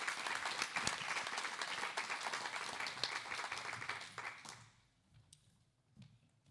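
Applause for a vice mayor at a queer human rights event, brisk and full for several seconds before tapering off into a few scattered claps and near quiet.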